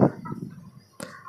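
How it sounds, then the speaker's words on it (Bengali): A white tiger-breed rooster in a rooftop cage kept with a few hens gives a brief low cluck, then a short sharp second call after a pause, close by and with no talking. "আমার আরেকটা সাদা টাইগার মোরগ"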